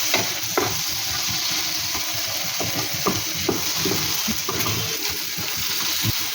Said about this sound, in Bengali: এরপর আমি দিয়ে দেবো এর মধ্যে কেটে রাখা টমেটো আর কাঁচা লঙ্কা দিয়ে ভালো করে নাড়তে থাকি।